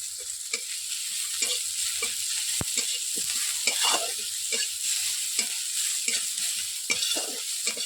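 Onion, ginger and garlic fry in a pan with a steady loud sizzle, broken by repeated stirring scrapes at an uneven rhythm, close and alone with no talk.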